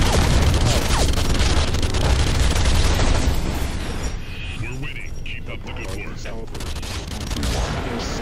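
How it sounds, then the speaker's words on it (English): An automatic assault rifle in the shooter Hybrid fires in three-round bursts, loud rapid cracks dominating at first and then thinning to scattered shots and effects under continuing game sound. "It's an auto assault rifle. It's got like a 3-burst fire."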